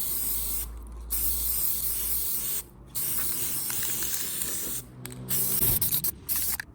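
Thin spray paint hisses from an aerosol can held about eight inches from a kitchen surface, in several steady bursts separated by short pauses, close and fairly loud.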